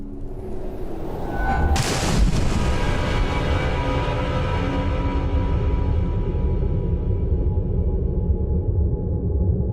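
A sharp video game gunshot in a Team Fortress 2 animation cracks out, then echoes into a long, rumbling boom that slowly fades under a low, steady drone.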